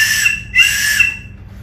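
A safety whistle, the kind fitted to a sailing life jacket, sounds two shrill, loud blasts close by, the first short and the second longer, then cuts to quiet.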